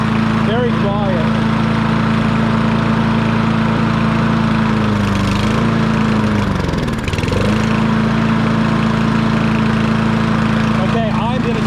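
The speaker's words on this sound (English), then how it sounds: "Pretty quiet. Very quiet." A Yardman push mower's small engine idles steadily and loudly throughout, with a brief dip and recovery in its hum partway through, likely from a clogged carburetor or bad gas.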